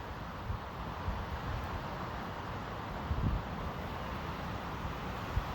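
Wind blowing outdoors at a quiet sit spot, a faint, soft steady rush with occasional low gusty buffets against the microphone.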